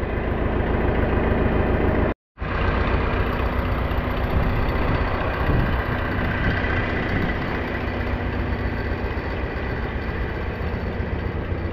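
A farm tractor engine runs steadily, a loud, close, continuous low rumble that drops out briefly for an instant before resuming at the same even level.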